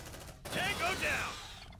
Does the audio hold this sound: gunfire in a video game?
yes